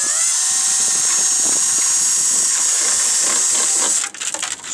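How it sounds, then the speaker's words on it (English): A power drill whines steadily at close range as it bores a small hole through the handle of an empty plastic jug, then the drilling stops and scraping, rattling handling noises follow. "drill a little hole right in the handle of my empty, reused"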